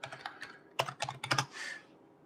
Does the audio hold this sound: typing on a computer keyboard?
yes